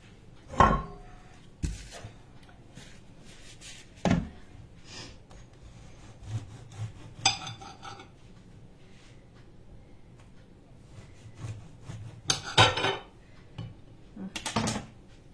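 A knife slicing through a soft homemade brioche on a cutting board, giving a few scattered soft scrapes and taps against the board, fairly quiet, with pauses between cuts.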